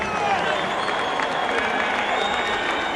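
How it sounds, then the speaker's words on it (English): Boxing arena crowd applauding and cheering for challenger Vinnie Pazienza after an IBF super middleweight title fight, a steady dense roar of clapping and shouts filling the hall throughout, with a voice faintly audible within it. "how about a round of applause for the game challenger who came in here tonight"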